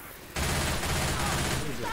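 Sustained rapid gunfire in the co-op zombie shooter Left 4 Dead 2, Dark Carnival campaign, bursts in loudly after a quiet moment and continues as a dense, close fusillade to the end.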